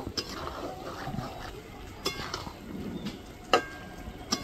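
Vetki fish bone chorchori being stirred in a pan: soft sizzling under scattered clinks and scrapes of a utensil against the pan, with a few sharper knocks.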